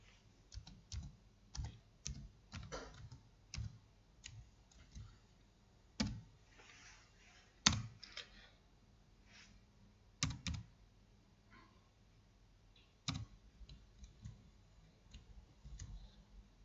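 Computer keyboard typing in a quiet room, irregular bursts of crisp key clicks with pauses between them, some single taps, close and fairly soft.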